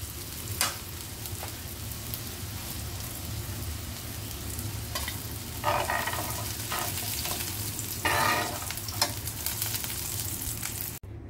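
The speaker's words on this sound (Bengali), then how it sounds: "বেগুন ভেজে তুলে নেওয়ার পর ওই তেলেতেই আমি কালো জিরে ফোড়ন দিয়ে দিলাম।" Nigella seeds crackle and sizzle in hot oil left over from frying brinjal, a steady frying hiss close by with a few louder bursts of spattering as the pan is stirred.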